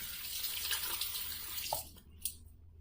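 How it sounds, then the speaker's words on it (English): Tap water runs steadily as a face is rinsed after a shave with a Mühle R89 or Edwin Jagger DE89 safety razor, a close hiss with splashing that cuts off near the end, leaving a few faint drips. "let me rinse off real quick"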